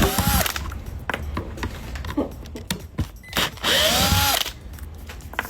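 Cordless power drill driving screws in a workshop, several short bursts of whirring separated by brief pauses, close and fairly loud with handling clatter between runs.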